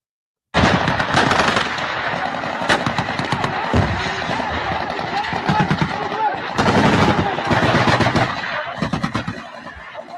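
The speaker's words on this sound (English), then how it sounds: "hear the exchange of gunfire" Rapid bursts of automatic gunfire crackle almost nonstop, layered shots overlapping from several guns, loud and close, with a brief lull midway.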